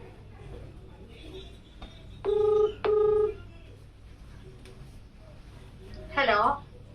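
Two short, clear keypad tones beep as a phone number is dialed to call home. Quiet room sound fills the gaps, and a voice begins to speak at the end.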